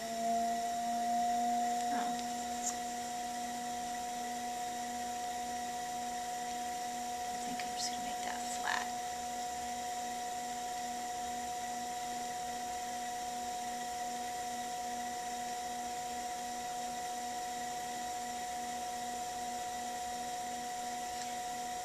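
A potter's wheel spins steadily as a wheel-thrown cup is trimmed, giving a constant motor hum with a few faint scraping touches early on.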